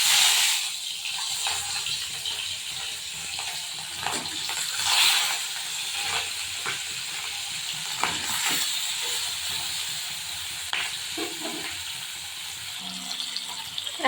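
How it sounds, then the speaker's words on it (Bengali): Marinated rohu fish pieces, rubbed with salt and turmeric, go into hot oil and fry with a loud, steady hiss and crackle that stays close and continuous throughout, with no talking. "তেল গরম হয়ে গেছে, এবার ম্যারিনেট নুন হলুদ দিয়ে মেখে রাখা মাছগুলো আমি তেলে দিয়ে"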